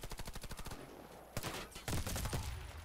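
Rapid automatic gunfire rattles in the online shooter Warface, beginning with a quick regular burst. Heavier, louder volleys and impacts follow after a short pause.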